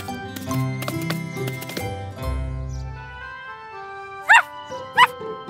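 A cartoon puppy barks twice near the end, two short bright yips standing out after a busy stretch of animated music and effects from a French children's cartoon.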